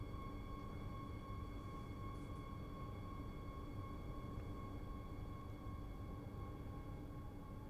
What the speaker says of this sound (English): Doesn't sound too bad for an electric train.